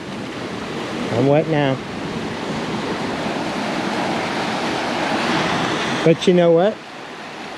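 Surf rolling in steadily at McClures Beach in Northern California, a continuous broad wash of waves with wind noise, as someone speaks briefly near the start and again near the end.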